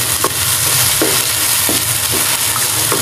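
Dumba mutton karahi frying in a wok with green chili paste, a loud continuous sizzle broken by repeated scraping stirs of a spoon, close up with no talking.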